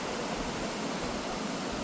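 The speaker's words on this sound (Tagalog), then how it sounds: "Ganda, may batis sa ilalim mo." A stream flows below a path in Rizal, giving a steady, even rush of water with no breaks, fairly loud and close, with no voices over it.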